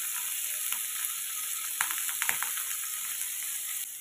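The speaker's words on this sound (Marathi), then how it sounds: "इथे मी पॅनमध्ये थोडंसं तेल घालून घेणार आहे पनीर फ्राय करण्यासाठी." Paneer cubes frying in oil in a pan give off a steady bright sizzle, with a few sharper crackles and pops rising out of the continuous hiss.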